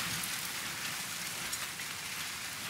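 Steady, dense rain falls in strong wind in Brazil's Nordeste, a continuous close hiss of drops on surfaces with no voices.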